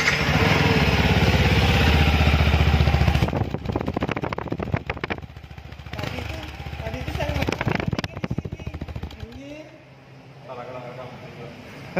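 A Yamaha WR 155 (2020) motorcycle with a 155cc VVA engine runs steadily, a loud near rumble that starts strong and then settles to a rougher, fluctuating idle, with a voice talking over the engine.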